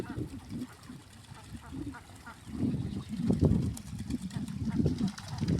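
Ducks quack outdoors in the morning, with several rough honking calls coming in bursts amid people talking nearby. The calls grow busier toward the end.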